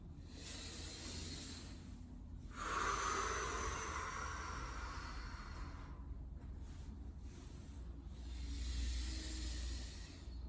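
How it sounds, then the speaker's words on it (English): Slow deep breaths during a settling-in moment of a core and floor exercise session, soft airy inhales and exhales rising and falling in long swells, close and quiet with no talking. "So just take a few deep breaths and settle in."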